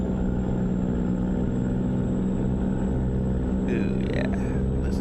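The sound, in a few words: truck engine in a trucking video game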